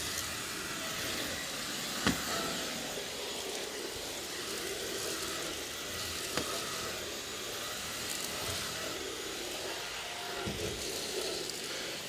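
Dyson V10 cordless vacuum running steadily on carpeted stairs, a continuous moderate whine and hiss with a few brief knocks as it moves from step to step, no talk.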